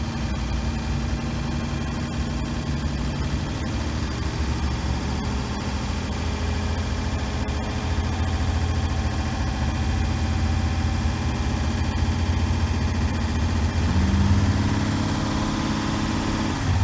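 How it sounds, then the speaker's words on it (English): A 1966 Dodge Dart GT engine idles with a steady low rumble and vibration, rising slightly in pitch near the end as it revs a little. "I'm going to rev up the engine a little bit"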